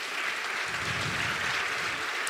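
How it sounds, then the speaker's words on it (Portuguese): A conference audience applauds a panelist, a soft, steady wash of many hands clapping at a distance, filling the short moment evenly without speech over it. "Uma salva de palmas para ele, Alexandre."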